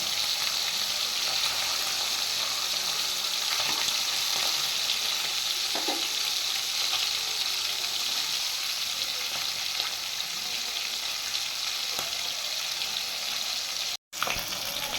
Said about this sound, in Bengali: আমি 3টে করে মাছ ভেজে নিচ্ছি।